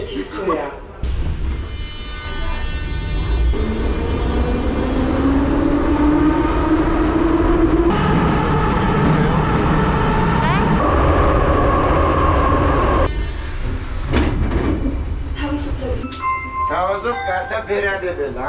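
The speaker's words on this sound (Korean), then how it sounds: "여기 지하철은 출발하면 시끄러워서 서로 말을 못합니다" Loud, continuous roar of a Tbilisi metro train in motion, with screeching metallic tones rising and falling and a station announcement voice near the end.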